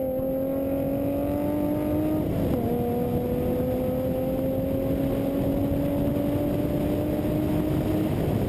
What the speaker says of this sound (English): Here we are on board John Klusendorf's Mitsubishi Lancer Rally Yard as he's chasing down the Hyundai Genesis Coupe